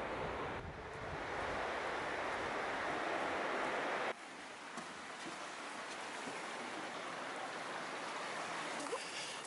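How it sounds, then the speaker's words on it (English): Low-tide surf washes onto Downhill Beach as a broad, continuous hiss with wind noise on the microphone, louder at first and then easing slightly after a few seconds. "This is Downhill Beach."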